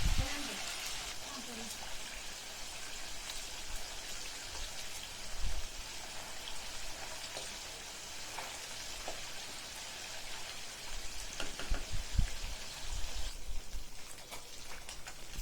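Fish frying in hot oil for a Chhattisgarhi fish curry gives a steady, hissing sizzle with scattered small pops of spattering throughout, fairly soft and continuous.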